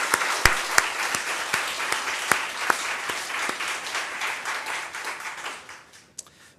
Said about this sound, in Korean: 우리 큰 박수 한번 하십시다.